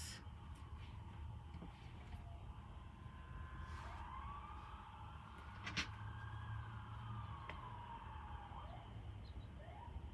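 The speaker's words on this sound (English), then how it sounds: "that ambulance is pretty darn close" A wailing emergency siren sweeps up and down continuously, fairly close and loud, over steady low traffic rumble.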